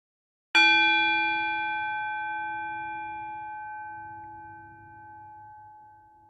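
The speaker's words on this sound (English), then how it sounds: "I'll ring that bell again." A single bell is struck once, its clear ringing tone lingering and slowly fading over several seconds in quiet surroundings.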